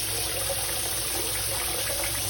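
Water runs steadily while fonio grains are washed, a continuous close rushing and splashing wash with no pauses.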